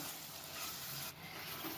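Tomato and onion gravy simmers in a pan, a soft, steady bubbling sizzle that stays faint and even, with a brief dip midway; no talking.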